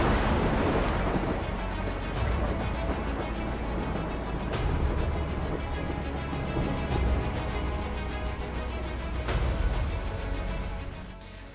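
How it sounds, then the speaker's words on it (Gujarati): Pre-monsoon rain pours steadily across Gujarat, a dense hiss of falling water with low rolling thunder rumbling underneath and a few sharper bursts, fading slightly at the end. "પ્રી મોન્સૂન એક્ટિવિટીના કારણે રાજ્યમાં ઠેર ઠેર વરસાદી માહોલ જામ્યો છે"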